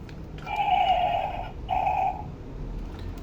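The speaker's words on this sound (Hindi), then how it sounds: "घोड़े की आवाज़ भी निकालता है" A talking toy horse gives two electronic neighs, a longer whinny followed by a shorter one after a brief pause, close and fairly loud, with no talking over them.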